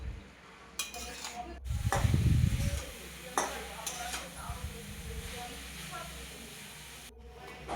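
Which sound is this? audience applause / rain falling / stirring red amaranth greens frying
stirring red amaranth greens frying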